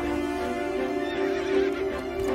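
A horse neighs in a short, fairly faint whinny, set in a historical drama scene at night.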